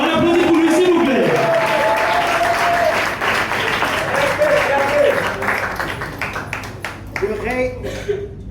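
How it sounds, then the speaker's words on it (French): Applause for a performer at a café slam poetry night: a crowd claps loudly and continuously, with voices calling and talking over the clapping as it gradually softens toward the end. "On applaudit pour lui, s'il vous plaît."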